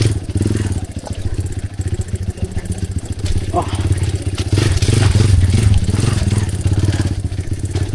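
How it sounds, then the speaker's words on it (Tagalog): Loud, rattling enduro motorcycle engine running steadily up close, with clattering and a voice talking over the noise. "Agwantahan lang sa gyud ninyo ang kasaba sa makina."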